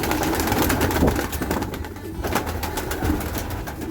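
Pigeons coo in a heated home loft in the evening, with young squabs among them, a steady low murmur of calls over a busy, rustling background.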